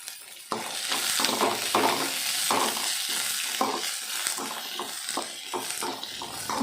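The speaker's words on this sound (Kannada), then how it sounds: "ಫ್ರೈ ಮಾಡ್ಕೊಬೇಕು" Cinnamon and cloves fry in a pan with a close, bright sizzle broken by repeated rhythmic stirring scrapes of a spoon against the pan, no speech.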